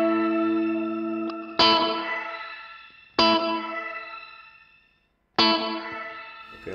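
A Neunaber Seraphim shimmer reverb pedal rings out three struck guitar chords in turn, each swelling into bright, stacked upward-octave shimmer that decays slowly between strikes, with a brief near-silent gap before the final chord.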